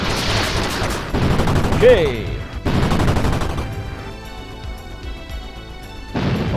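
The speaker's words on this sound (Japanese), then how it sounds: "スーパーレーザー発射" Super laser blasts and rapid explosive gunfire from the PC Engine shooter Bastille 2, loud bursts with a swooping tone, while a player's voice talks over the action.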